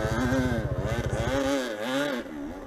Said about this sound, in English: So he is cranking on the RPMs.